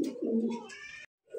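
A Rajgolla pigeon gives a short, soft, throaty coo up close, ending in a brief pause and the start of another call.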